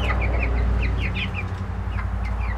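Small chickens cluck and chirp in short, repeated bursts close by, set against a constant low background hum, with no voices.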